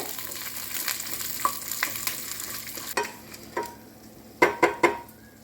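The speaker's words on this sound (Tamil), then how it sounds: "இது நல்லா பருப்பெல்லாம் நல்லா செவந்து வரட்டும். அது வரைக்கும் நல்லா ஆயிலே வதக்கி விடுங்க." Oil sizzles steadily in a pan as lentils fry for radish chutney while a spoon scrapes and stirs, with several sharp metallic clanks near the end.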